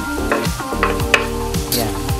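Garlic sizzles in hot oil with pork during a Thai basil stir-fry, a steady close frying hiss broken by repeated scraping stirs of the utensil.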